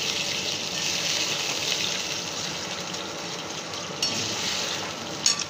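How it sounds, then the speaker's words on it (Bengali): A little water splashed into a pan of frying ginger, giving a broad hissing gush that stays steady and close, with a couple of small clinks near the end. "সামান্য জল দেব যাতে আদাটা ভালো করে ভাজা হয়"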